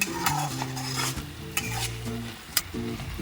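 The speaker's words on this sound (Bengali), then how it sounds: "ভালো করে মিক্স করে নেব" Star fruit chutney stirred in a pan on a gas flame, a spoon scraping and clinking repeatedly against the metal in a steady rhythm over a soft sizzle, close and clear with no talk.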